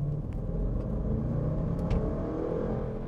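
A Range Rover Sport with a 510-horsepower supercharged V8 accelerates, giving a loud, steady low rumble and rising engine drone that fills the whole short span, heard alone without voices.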